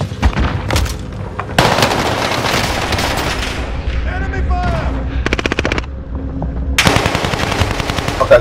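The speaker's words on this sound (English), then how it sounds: "Enemy fire!" Video game gunfire rattles in rapid automatic bursts with sharp single shots in between, loud and close, starting and stopping repeatedly over several seconds.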